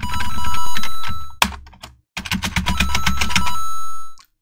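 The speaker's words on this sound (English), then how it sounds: "I just had to press random buttons on my keyboard" Random keys mashed on a computer keyboard during a Mario-based horror game, dense loud clicking bursts with a short pause midway, then a longer rapid flurry that stops abruptly.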